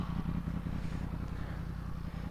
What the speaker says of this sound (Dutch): toevallig staat hier gewoon een motor. En er staat ook nog aan.